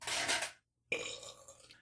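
A single loud, close burp after drinking beer, with a brief pause and then a second shorter belch trailing off, heard alone without any talk.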